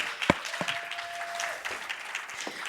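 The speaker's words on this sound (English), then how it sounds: "A round of applause, please, for my panelists as they make their way to stage" An audience at a hospitality conference claps as panelists walk onto the stage, a soft, scattered patter with a few sharper claps near the start, fairly distant and steady.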